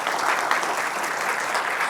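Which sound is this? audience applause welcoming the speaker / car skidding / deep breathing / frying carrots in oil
audience applause welcoming the speaker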